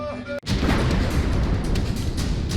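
A loud explosion strikes at Ukraine's Illich metallurgical plant. A sharp blast breaks in abruptly and is followed by a heavy, rumbling roar that stays loud to the end, with no talk.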